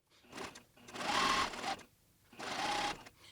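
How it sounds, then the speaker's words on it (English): A sewing machine stitches a seam on custom pants with a back tack, running in two close bursts of rapid mechanical whirring with a short pause between them. "Let's go ahead and start sewing with the back tack."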